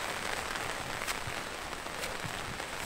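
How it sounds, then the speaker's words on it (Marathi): Heavy rain falls in a misty hillside forest, a steady dense hiss of drops on leaves and ground, loud and close with no voices. "आता जोरात पाऊस आला."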